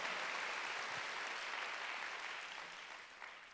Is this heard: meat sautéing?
no